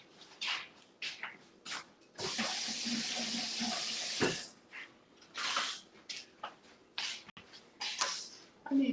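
Tap water runs in a continuous close splashing stream for about two seconds as food is rinsed in a sink, framed by short clinks and handling noises.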